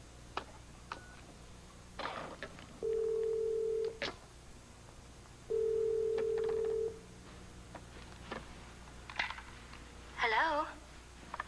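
A telephone is dialed indoors: a few short ticks and clicks, then two sustained steady tones about a second each, separated by a pause, followed by brief chirpy electronic warbles, with faint background noise and no talking.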